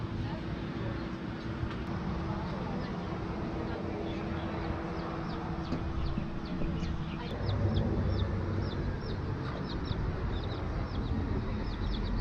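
A rooster near garbage in Kauai, Hawaii, gives repeated short clucks in the distance over a steady outdoor background, with faint voices mixed in.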